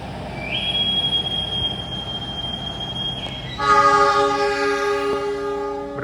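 A passenger train departing Kertosono station: a steady high tonal squeal gives way to a loud, sustained multi-tone horn or whistle over a rumbling rail noise, close and continuous.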